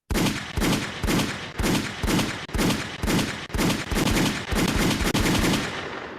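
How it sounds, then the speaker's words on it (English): A rapid burst of gunshots, about a dozen loud, sharp cracks fired in an uneven rhythm, each with a short echoing tail, with no voices. "let me get some gunshots in the building"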